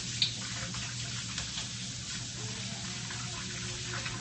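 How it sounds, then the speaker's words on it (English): Hands being washed under a running tap at night, a steady soft splashing flow with a small clink at the start, close and fairly quiet, with no speech. "Wash hands."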